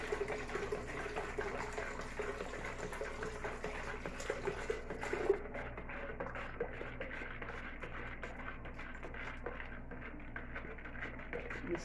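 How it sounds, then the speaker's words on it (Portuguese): Half a litre of room-temperature filtered water is poured into a jar, a soft, steady trickle and splash running continuously at low level with no talking. "Agora vamos acrescentar aqui mais meio copo, aliás, meio litro de água em temperatura ambiente"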